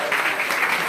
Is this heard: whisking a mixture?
no